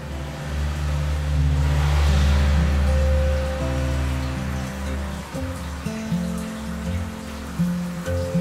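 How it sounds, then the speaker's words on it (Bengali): Heavy monsoon rain falls in Krabi, Thailand, as a constant broad hiss, while a car engine rumbles and revs nearby underneath it. "আবার শুরু হলো তুমুল বৃষ্টি।"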